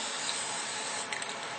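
Aerosol spray can of clear coat spraying in one continuous close hiss, steady throughout with a couple of brief sputters near the end.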